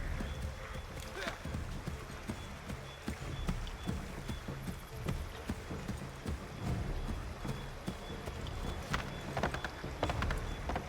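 Horse hooves clip-clop at a gallop through the streets of Boston in Assassin's Creed III, a steady rapid rhythm of hoofbeats under ambient city noise and game speech.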